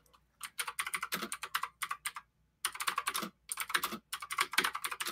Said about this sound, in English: Furious typing.